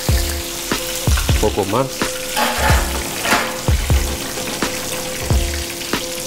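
Fish frying in hot oil for Nicaraguan pescado frito a la Tipitapa, a loud close sizzle with repeated clinks of a utensil against the pan and a brief spoken remark.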